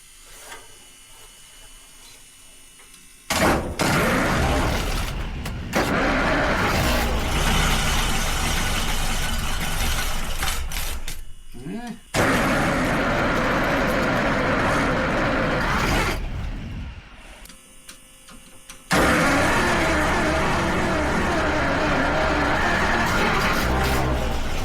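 A car engine with a fuel problem, after cheap replacement parts, cranks and catches, idles roughly, then cuts out and restarts in several separate loud bursts of running and revving between quiet gaps.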